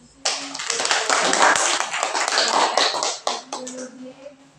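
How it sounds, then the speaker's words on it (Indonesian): Classroom applause for a student group after a biology presentation, a burst of irregular clapping from a room of students that swells and then tapers, mixed with chatter and voices talking over it. "Beri tepuk tangan."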